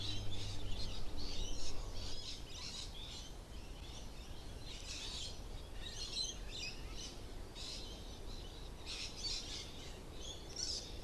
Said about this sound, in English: Can you hear the parrots behind me on the tree?